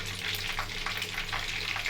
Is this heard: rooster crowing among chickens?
no